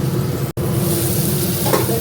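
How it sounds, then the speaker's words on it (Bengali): Steady oily sizzling of ridge gourd and potato frying in a pan, close and loud, broken by a brief cut of silence. "ঝিঙেটা ভেজে দেবো"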